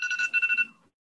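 A telephone bell rings in a quick repeated trill, one short burst that stops abruptly and leaves silence.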